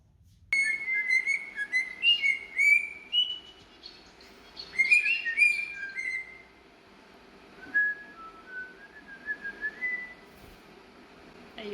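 A pet finch indoors chirps and whistles in clear, close bursts of rapid warbling phrases separated by brief pauses, alone in a quiet room with no talking.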